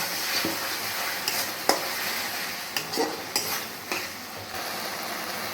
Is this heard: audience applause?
no